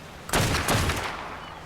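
Rifle volley in modded ARK: Survival Evolved, a quick cluster of loud, close shots in rapid succession followed by a fading echo, heard alone.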